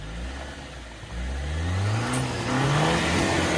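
A car engine revs and whines through rising and falling pitch sweeps, close and steady, growing slightly louder as the vehicle is steered hard forward and to the right.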